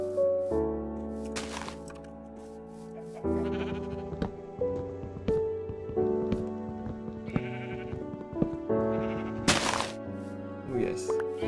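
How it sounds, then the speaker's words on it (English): Sheep bleating in the Minecraft video game, several short bleats spread through the clip over a steady musical background, with a game thud or two, fairly close and clear. "There were sheep and black sheep"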